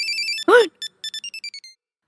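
An electronic phone ringtone plays a short melodic sequence of bright tones, interrupted once by a brief voiced sound, then continuing in quick separate beeps before stopping.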